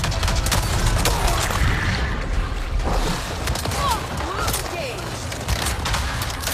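Enemy gunfire aimed at the player in Avatar: Frontiers of Pandora, loud and continuous volleys and rapid shots with occasional heavier bangs, mixed with game effects while someone talks over the fighting.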